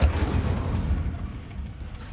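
An Incendio fire spell cast in a Harry Potter video game, heard as a loud, dense burst of rumbling fire that holds steady for about two seconds, with no talk over it.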